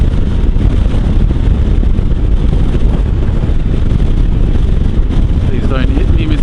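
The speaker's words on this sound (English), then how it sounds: "it's absolutely blowing a gale, so hopefully you can hear me" A strong gale buffets the microphone on a moving Royal Enfield Himalayan motorcycle, a loud, constant roar of wind that swamps everything, with the engine barely showing beneath.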